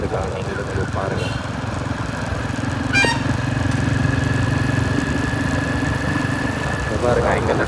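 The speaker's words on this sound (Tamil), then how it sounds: "எவ்வளோ டிராக்டர்லாம் மேங்கோ வச்சுட்டு நாள் கணக்கில் வெயிட் பண்ணிருக்காங்க" Tractor engines idle in a queue at a mango factory with a steady low chugging drone close by, a constant mechanical rumble that continues without pause, with faint voices in the background.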